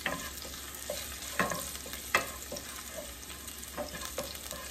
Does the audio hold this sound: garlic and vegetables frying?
yes